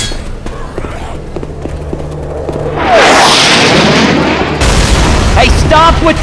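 Frag rounds from a grenade launcher detonate in Left 4 Dead 2, a loud booming blast that swells midway and rumbles on with heavy low-end roar, over a busy game mix.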